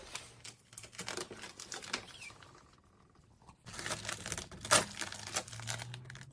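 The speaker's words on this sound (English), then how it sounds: "Time to peel off all the tape and see how it looks." Masking tape is pulled off a freshly painted Integra car, giving crackling, crinkling rips in uneven bursts, close and fairly quiet, with a short lull in the middle.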